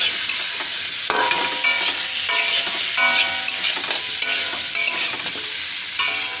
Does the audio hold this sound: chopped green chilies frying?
yes